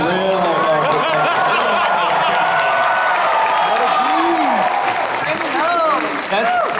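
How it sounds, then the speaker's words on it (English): A spillover crowd at a San Diego Comic-Con panel claps loudly and steadily, with some cheering and chatter in the mix, while voices talk over the applause. "That's the spillover crowd, right?"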